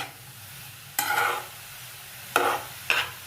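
Grated carrot sautéed over a medium flame in a pan for gajar halwa, quiet background with three separate bursts of scraping, sizzling stirring strokes, the first longest.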